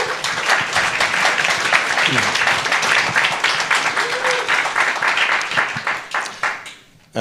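Conference audience applause at the Utah Citizen Summit, a strong sustained round of clapping that fades out toward the end, with a voice heard briefly over it.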